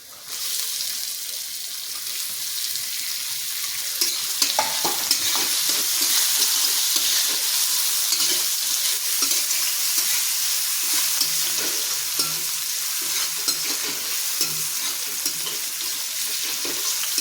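Chopped capsicum fries and gets stirred in a pan for masala fry idli, giving a steady close sizzle with scraping stir strokes throughout and no talking.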